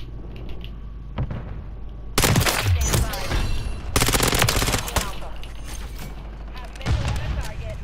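Close, loud bursts of automatic fire from an ISO 9mm submachine gun in Modern Warfare 3, two sustained volleys separated by a short gap, with scattered shots and quieter game noise around them.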